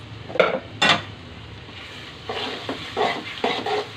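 Spices fried in a pan with chili and turmeric powder as liver is cooked, a spoon scraping and stirring over a soft sizzle in several separate strokes, close and clear with no talking.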